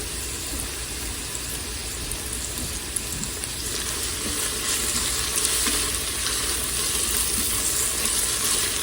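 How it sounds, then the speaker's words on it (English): Sliced garlic sautés in a pressure cooker for a spaghetti carbonara, giving a steady, fairly close sizzle that builds slightly louder partway through, with scattered light crackles and no talking. "we're going to throw our sliced garlic in there as well and let that saute for just about a minute more"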